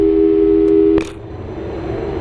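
A telephone dialing sound from the video game Portal 2: a loud, steady electronic tone holds for about a second, cut off by a sharp click, then a quieter electronic hum lingers.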